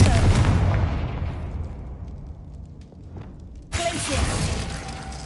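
A Confringo fire spell bursts in a video game with a loud, booming blast that rumbles and decays, then a second sharp crackling impact follows, heard alone.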